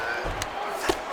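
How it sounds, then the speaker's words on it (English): An arena crowd cheers at a UFC fight, a steady roar with a couple of sharp thumps in a brief burst. "The crowd's going crazy because they appreciate high-level mixed martial arts"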